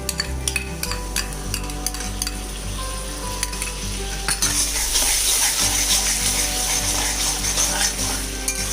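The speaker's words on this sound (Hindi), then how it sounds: "अब इनको अच्छे से फ्राई करना है।" Egg curry masala with yogurt fries in a pan, a steady loud sizzle with occasional spoon scrapes and clinks against the metal, continuing throughout without talk.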